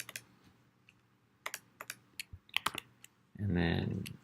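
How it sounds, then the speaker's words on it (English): Typing on a computer keyboard while editing a Shopify product page: scattered sharp key clicks in an irregular rhythm, close and fairly clear, followed by a louder rustling burst at the end. "and then type this, there you go."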